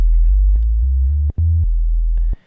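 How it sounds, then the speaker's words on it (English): Low, pure synthesizer sine wave tones stepping through several pitches, smooth and steady with small clicks at each change, then stopping. "sine waves are useful for perhaps sub bass"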